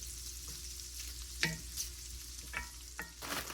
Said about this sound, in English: Cook the sausage for about 3 minutes or so until it's browned a little.